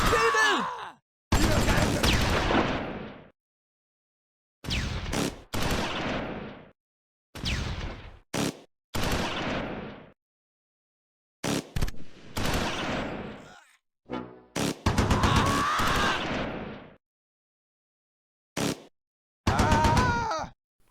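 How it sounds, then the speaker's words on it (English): Gunfire in the Close Combat 4 war game at the Battle of the Bulge, near Baugnez, December 1944: short loud bursts of shots and combat sounds broken by silent gaps, mixed with shouted soldier voice lines and groans. "We're under heavy fire!"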